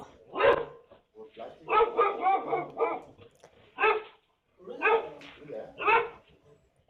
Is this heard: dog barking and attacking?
yes